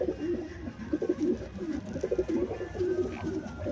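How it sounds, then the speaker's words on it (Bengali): A green choco pigeon coos near at hand in a steady run of low, throaty pulses, repeating in uneven rhythm over a constant background hum. "খুবই সুন্দর গ্রিন চোকো পায়রাটা।"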